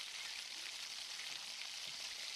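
Egg roll frying in oil under a lid in a covered pan, a faint, even sizzle like soft rain that runs unbroken, with no talking.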